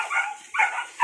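Two-month-old Malinois puppies whimpering, two short, high-pitched whines close by within about a second.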